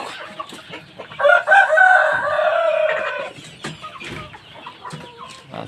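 A heritage-breed rooster crows loudly nearby on a farm, one long strained call, surrounded by clucking hens and scattered farmyard bird noises.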